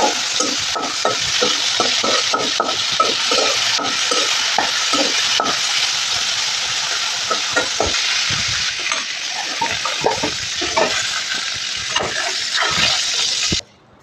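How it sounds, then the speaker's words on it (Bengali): Shrimp frying lightly in hot oil in a home kitchen, a steady bright sizzle with rhythmic scraping and stirring strokes of a utensil throughout, close and loud, then cutting off abruptly near the end. "প্রথমে আমি চিংড়ি মাছগুলোকে ভেজে তুলে রাখবো"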